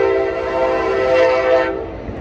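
A loud, steady Amtrak train horn sounds for a couple of seconds, swelling in the middle before cutting off, leaving low rumble of the passing rail cars.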